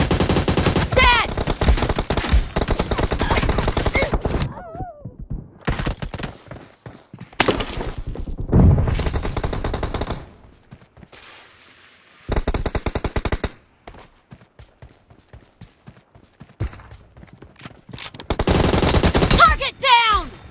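Loud bursts of automatic machine gun fire in PUBG Mobile, rapid volleys broken by short gaps and single shots, close and dominant over the game soundscape.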